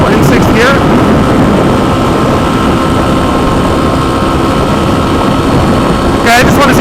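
Kawasaki KLX300 with revised gearing pulling hard in sixth gear, a loud, continuous engine drone with steady wind rush, the rider's helmet-muffled voice briefly heard at the start and end.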